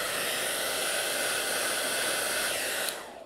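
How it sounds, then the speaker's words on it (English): A hair dryer blows steadily to warm a rolled beeswax candle, a loud, even whooshing hiss close by that holds for about three seconds before switching off and fading. "Now what we're going to do is use the hairdryer one more time."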